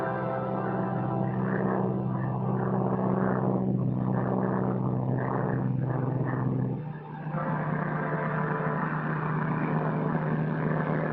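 A propeller airplane drones steadily overhead above rushing water, a constant loud engine roar lasting throughout with a brief dip partway before it resumes.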